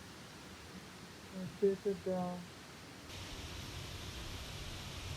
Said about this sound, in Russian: Вода. Тут еще где-то есть типа как водопадик.